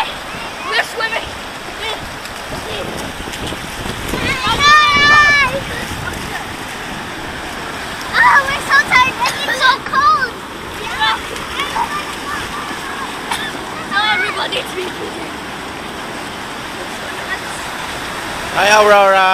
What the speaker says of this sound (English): We're swimming!